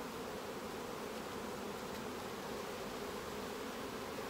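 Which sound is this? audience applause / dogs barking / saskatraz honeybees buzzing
saskatraz honeybees buzzing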